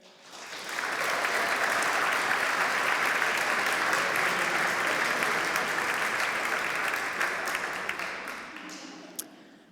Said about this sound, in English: Let's give a well-deserved round of applause for a fantastic jury